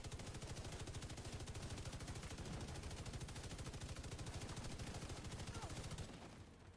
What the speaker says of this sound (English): I put my LMG back on.